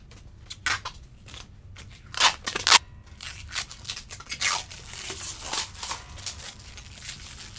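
Plastic wrap being peeled and torn off a Squier Affinity Telecaster guitar, a series of close, crinkly crackles and sharp tearing bursts at irregular intervals, quiet overall.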